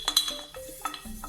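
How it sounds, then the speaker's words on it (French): Pastry dough for chocolate bread rolls being mixed in a bowl, with a few sharp clinks of a utensil against the bowl over soft stirring scrapes, close and fairly quiet. "Après, ça va bien mélanger la pâte."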